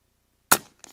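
A single sharp crack from an Avenge-X Classic .177 air rifle, a short loud snap out of silence followed by a faint metallic tick a moment later.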